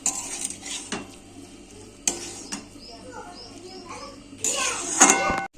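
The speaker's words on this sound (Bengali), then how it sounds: "এবার দিয়ে দেবো মাছটা, ছাড়ানো মাছটা দিয়ে কষিয়ে নেব।" Cleaned rohu fish pieces stirred and sautéed in a pan of spice masala, with spoon scrapes and pan clatter over a light sizzle, and a few sharper metallic knocks near the end.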